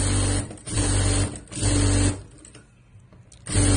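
A sewing machine stitches a shirt hem in bursts of fast, steady mechanical whirring, stopping and restarting several times, close and clear with no talk.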